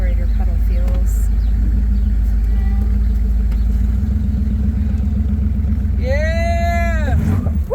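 A 1956 Corvette on its first road drive gives a loud, steady low engine rumble with road noise, and people talk and react over it.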